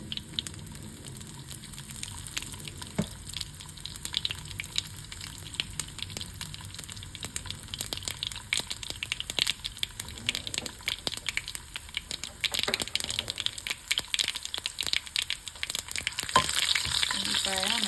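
Onions frying in a pan for a lentil dish, a continuous close sizzle with occasional stirring scrapes and crackles that grow busier toward the end, no talking.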